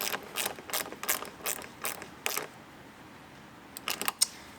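Ratchet clicking in several short bursts while a mud flap bracket bolt is tightened on a 2022 Chevrolet Silverado 1500 ZR2, close and fairly quiet, with a pause before a last quick run of clicks.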